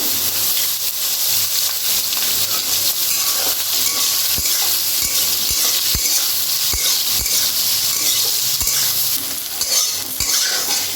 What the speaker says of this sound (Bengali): ভালো করে নেড়ে নেবো, সোয়াবিনটাকে লাল লাল করে ভেজে নেব।